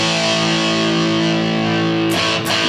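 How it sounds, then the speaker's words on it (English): Electric guitar run through an amp simulator with tube-style preamp distortion, thick sustained chords ringing loud and steady before two sharp strums near the end, no voices. "just like it would be the preamp tube distortion on your amplifier head"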